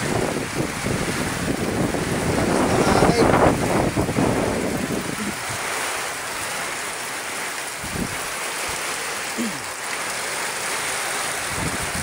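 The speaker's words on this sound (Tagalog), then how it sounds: "Lakas ng hangin oh." Loud typhoon wind rushes and gusts, swelling in the first few seconds, then settling into a steady roar with occasional thumps of microphone buffeting.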